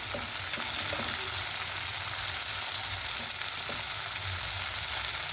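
Spice paste with yogurt, sugar and salt sizzling steadily in hot oil for a vegetarian potato curry (aloo dum), with a constant close frying hiss and occasional soft stirring scrapes.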